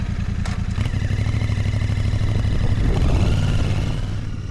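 A Royal Enfield Bear 650 motorcycle being ridden on a road with speed bumps, its engine a loud, steady rumble with slight rises in revs, close and continuous throughout.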